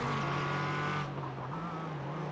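A GT4 race car in the iRacing sim on the Iowa Speedway Roval roars steadily up close, its engine note dropping and shifting partway through as it downshifts, with a brief tire-scrub texture and no voices.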